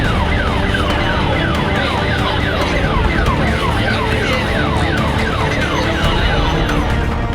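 Fire engine sirens wail in rapid, repeating rising sweeps while the trucks race to a blaze at a bus and shops in Chennai. The loud wail continues without a break over a busy street background.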